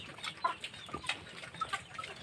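Chickens cluck softly in the background, with scattered faint calls and no voices.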